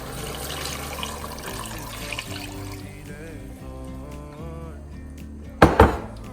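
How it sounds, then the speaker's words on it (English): Beef broth pours into an Instant Pot for beef stew as a steady liquid trickle over a low hum, ending in a short louder splash near the end. "So I'm going to add a bay leaf and the beef broth."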